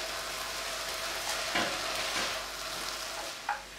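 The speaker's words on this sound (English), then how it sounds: "I'm still stirring my vegetables" Vegetables and tomato puree for a shepherd's pie being stirred in a hot pan, a steady sizzle with a few soft scraping strokes of the spoon, close and without talk.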